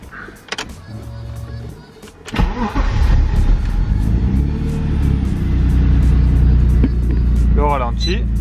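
A BMW E30 with an M50 engine swap cranks and fires up, settling into a loud, steady idle up close, preceded by clicks and a power window whir, with someone talking briefly.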